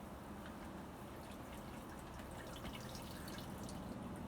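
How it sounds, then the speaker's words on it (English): Water splashing and dripping steadily as soapy water is rinsed out of hand-washed laundry in an off-grid setup, a continuous close trickle with no talking. "Right now I'm just rinsing the soapy water out, so the rinse water does better."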